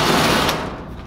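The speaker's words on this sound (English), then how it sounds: "we are drilling holes in the metal" A power drill whines as it bores small holes into metal for a horse-trailer mobile bar, a steady grinding buzz that eases off toward the end.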